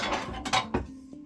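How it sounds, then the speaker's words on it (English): Glass turntable tray and carousel ring being lifted out of a microwave, a few short clinks and rattles of glass and plastic, close and fairly quiet, with a brief tap near the end. "Make sure you remove your glass tray"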